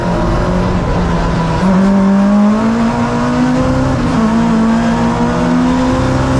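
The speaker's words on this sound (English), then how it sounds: "Gaggle of cars coming down here." Several touring race cars roar past at close range at Donington, engines revving and pitch climbing steadily as they accelerate, a loud continuous drone throughout.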